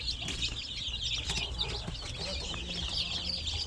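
Basilan chicks, days to weeks old, in a low-budget brooding pen, peep in a dense, continuous chorus of high, overlapping chirps, close and steady throughout.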